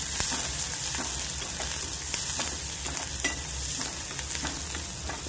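Besan zunka frying in ghee is stirred in a pan, giving a dense continuous sizzle with repeated spatula scrapes and light taps, loud and close with no voices.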